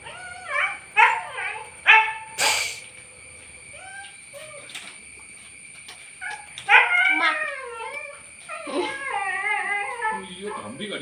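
A pet dog barks, yips and whimpers in short bursts and drawn-out whines indoors, close and fairly loud, trading sounds back and forth with a voice as if in conversation.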